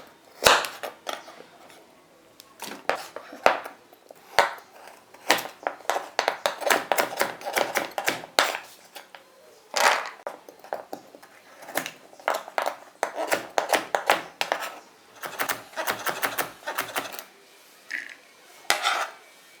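Knife chopping fresh carrots into big dice on a cutting board for pumpkin soup, with rapid bursts of sharp, close taps broken by brief pauses, with no talking.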